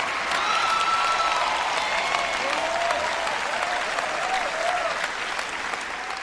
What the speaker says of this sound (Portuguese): Se você quer aplaudir o Senhor